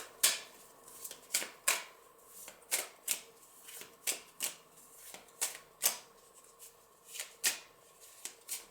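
A pile of tarot cards is shuffled by hand in close, crisp bursts, each riffle a sharp papery flutter repeating at a steady, unhurried pace in a quiet room.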